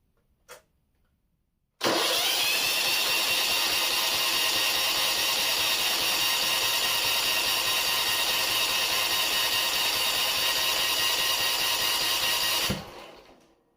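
After a brief knock, a John Deere tractor engine cranks loudly and steadily for about eleven seconds, a constant whirring churn that stops abruptly.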